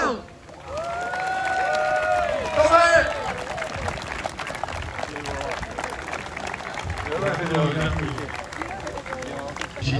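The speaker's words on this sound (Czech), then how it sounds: "Je vedlej velký potlesk." A crowd applauds at the awards ceremony of a car race in Čáslav, a steady wash of clapping and cheering running under an announcer speaking over a PA.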